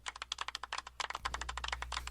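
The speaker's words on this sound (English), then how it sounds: "it's a golf clap" A soft golf clap, a rapid run of light, dry pats that sounds almost like fast typing, steady and close for about two seconds.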